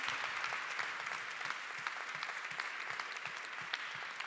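A seated audience at a February 2020 event on art and health gives a dense, even round of applause that keeps a steady pace throughout, with no voices.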